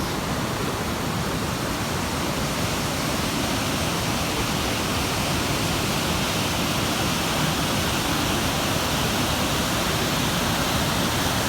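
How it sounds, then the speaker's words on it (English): Water rushes along the Appalachian Trail in a loud, constant roar of broadband noise like a nearby waterfall or stream, steady for the whole clip with no talk. "Look at all that water."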